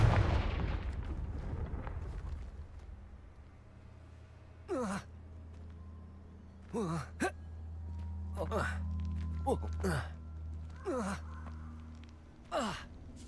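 Fire-spell explosions from the Confringo curse in the video game Hogwarts Legacy land as a string of sharp whooshing blasts, about six spaced every second or two, over a low droning game soundscape.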